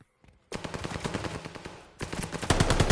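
Rapid bursts of automatic gunfire in a competitive shooter match, loud and continuous, with a brief pause and then a heavier volley near the end.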